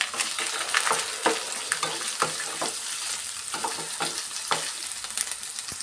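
Four dried red chillies frying in hot oil, a steady close crackling sizzle with scattered sharp pops and light stirring scrapes throughout, no talking.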